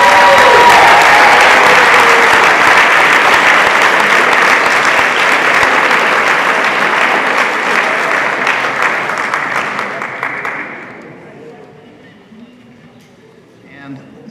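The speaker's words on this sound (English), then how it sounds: "please give these faculty members a round of applause" A large audience at a 2022 School of Business commencement honors celebration gives faculty members a loud, sustained round of applause that gradually thins out and fades over about ten seconds.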